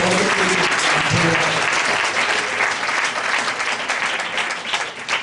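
A church congregation at a Hindi worship service claps loudly and steadily for several seconds, a dense wash of applause with a brief voice near the start.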